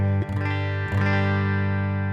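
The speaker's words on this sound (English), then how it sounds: "this is the sound of a model of a Princeton reverb on the quad cortex." Sustained electric guitar chords played through a modeled Princeton Reverb amp with a 10-inch speaker on a Quad Cortex, two strummed attacks ringing out clean and full with a rich low end.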